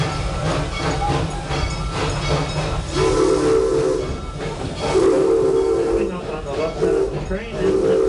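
A steam train on the Serengeti Railway at Busch Gardens Tampa blows repeated sustained whistle blasts over a constant steam hiss and rolling rail noise, while a voice talks throughout.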